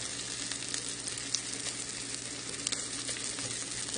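Brussels sprouts frying in a pan for maple bacon sprouts, turned down to a gentle heat, giving a steady soft sizzle with faint crackles and occasional small pops, close and without talk.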